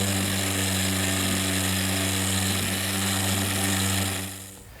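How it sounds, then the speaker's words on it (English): A power sander runs steadily on the edges of a wooden Shaker woodbox, giving a loud constant motor hum with strong tonal harmonics before it winds down and stops near the end. "I think I'll take the sander and smooth up these edges."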